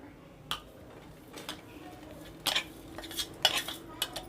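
A handful of sharp clinks and scrapes of a utensil against a plate as a jaggery laddu mixture is transferred onto it, spaced irregularly over a quiet background.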